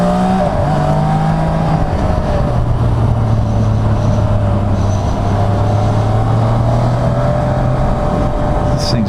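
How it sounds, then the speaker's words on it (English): A Can-Am Spyder RT three-wheeler rides along with a loud, close engine note that drops in pitch as it slows under engine braking, wind and road noise steady underneath. "This thing's got the most incredible compression braking."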